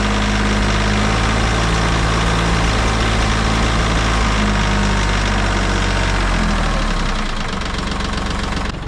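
A Branson 2515H diesel tractor idles close by, a loud continuous knocking rumble with a slight sputter, easing and smoothing slightly toward the end.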